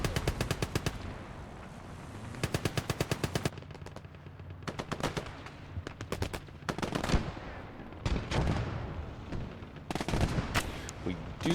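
Battle gunfire in the WWII video game Gates of Hell: Ostfront, including an 88 gun, comes as loud, rapid bursts of repeated shots broken by short gaps, with heavier booming reports near the end.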